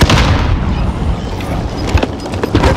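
A grenade blast in Call of Duty Warzone, heard as a loud, dense crunch of booming impact and debris amid constant battle noise, with sharp pops scattered through the remaining seconds.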